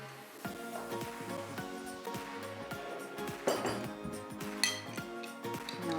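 Utensils clinking against a bowl while mixing a pumpkin and tarragon salad, repeated light metallic chinks and knocks in an irregular rhythm, close and fairly soft, without talk.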